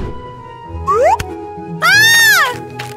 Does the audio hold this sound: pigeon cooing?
no